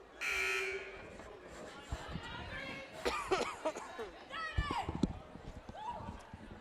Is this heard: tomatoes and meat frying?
no